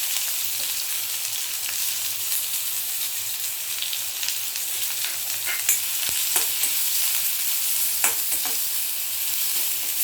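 Onion goes into hot oil with crackling mustard seeds and asafoetida, giving a loud, steady sizzle with scattered pops and crackles, close up and without talk.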